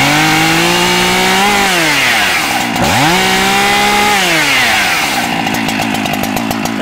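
A Husqvarna 395XP chainsaw with a 24-inch bar and chain, just after a cold start, runs loud and close, its engine revving up and down and settling toward idle.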